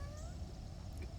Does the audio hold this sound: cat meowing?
yes